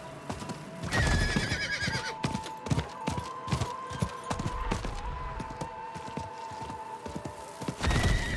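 A horse whinnies loudly in the video game Diablo 4, then hooves clip-clop steadily amid thuds and scattered gunshots, with a second whinny near the end.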